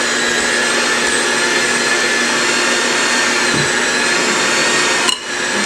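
An electric mixer running on low through sweet potato pie filling gives a steady, loud whirring motor hum that holds evenly, with a faint bump near the end.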